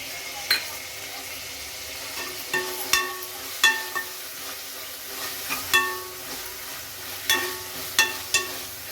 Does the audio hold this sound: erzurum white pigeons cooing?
no